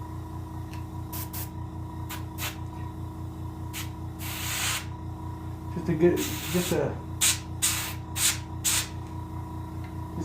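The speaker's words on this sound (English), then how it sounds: "good spray just to bring out them fin rays real good from an extreme frontal angle." Short bursts of spray paint hiss over green sunfish fins during taxidermy painting, several quick puffs and one longer spray, faint and close, with someone talking quietly.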